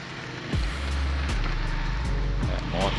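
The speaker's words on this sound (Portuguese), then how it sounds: "É, moto passando, é carro" Cars and motorcycles pass on a road near the beach at Morro de Santo Antônio in Caraguatatuba. Several vehicles go by with rising and falling engine whooshes under a steady outdoor rumble, and someone speaks over them.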